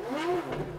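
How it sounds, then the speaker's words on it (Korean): A Pagani supercar's Mercedes-AMG V12 engine revs briefly at a hillclimb event, with a rising, snarling blip that swells and drops, heard close and loud with no voices. "파가니 엔진은 메르세데스 AMG가 공급해주는 12기통 엔진을 쓰고 있습니다"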